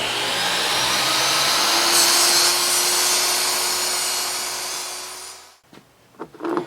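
A power saw cuts scrap wood at a 15-degree angle for a feather board, a loud continuous whine and rasp for over five seconds that ends abruptly, followed by a few light knocks.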